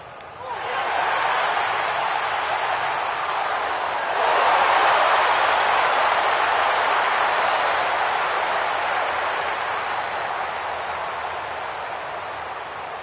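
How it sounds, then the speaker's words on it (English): Subdued applause from a golf gallery beside a green at a tournament in Scottsdale, Arizona, a steady soft wash of clapping that runs the whole stretch, swelling slightly midway before tapering off. "this crowd, let's say, muted in their applause"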